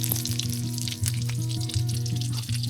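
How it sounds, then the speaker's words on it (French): Meat and sausages frying in boiling oil at a winter campsite in a heated tent in Québec, a close, steady crackling sizzle over a low repeating hum, with no talking. "On fait la bonne viande avec des saucisses."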